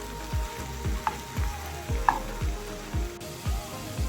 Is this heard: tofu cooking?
yes